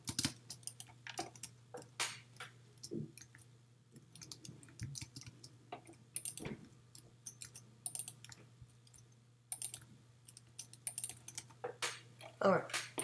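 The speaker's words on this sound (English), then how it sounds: "Hopefully I get a mouse that doesn't make so much noise when I'm clicking." Busy, irregular clicking of a computer mouse during a castle-building game session, with quick bursts of close, crisp taps, some in rapid runs and others spaced apart, over a faint steady background hum.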